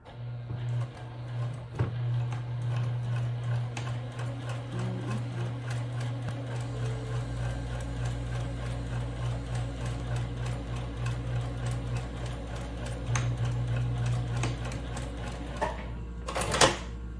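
A sewing machine stitching a line of seam on a fabric gift bag, a steady close whirring hum with fine rapid needle ticks running continuously, shifting to a lower drone partway through, ending with a brief louder clatter.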